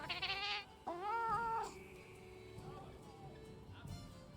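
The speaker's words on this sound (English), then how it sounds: "Okay, to be fair, it is a cat." A cat meows in the video game Monster Hunter Wilds, giving a couple of clear rising and falling calls near the start, then softer murmured sounds fade out under a quiet background.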